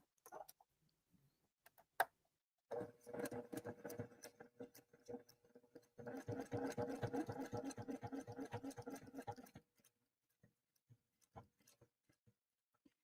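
Domestic sewing machine stitching a Kimberbell Enchanted Winter quilt block over pins with 9014 thread, running in two steady bursts of rapid rhythmic stitching separated by a brief pause, with scattered clicks before and after.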